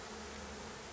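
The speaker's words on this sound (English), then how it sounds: "these bees are great big long ones" A close, continuous buzzing drone of large, long-bodied bees during a bee removal in Oakland, steady and dense throughout the short moment.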